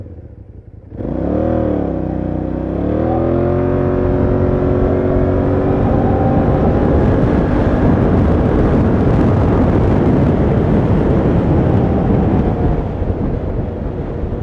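A 2022 KYMCO AK 550 maxi-scooter fitted with an Akrapovic exhaust pulls hard from standstill to 50 in fast mode, its engine note rising smoothly into a loud, sustained roar mixed with wind rush, with no talking.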